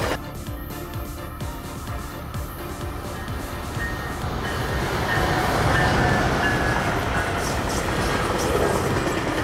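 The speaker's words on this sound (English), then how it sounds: "Commuter trains are a type of railway vehicle used to travel short distances within the city or on the outskirts of the city" A commuter train on a city or suburban railway line rolls past steadily, its rumbling wheels and rail clatter swelling slightly louder over several seconds, with no voices.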